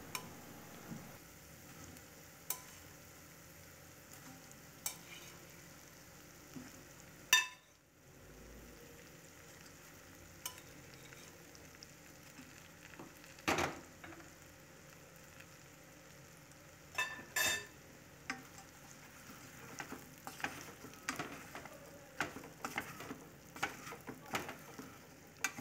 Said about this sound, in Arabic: أخيرا منضيف عليهم كمية من البطاطا اللي قليناها ومنمرغهم تمريغ بتبلة الثوم والكزبرة